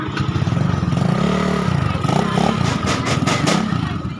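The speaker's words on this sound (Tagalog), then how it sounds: "Akin naman, motor maingay." A motorcycle engine runs loudly and close, a steady rumbling idle with revving swells and some clatter, no talking.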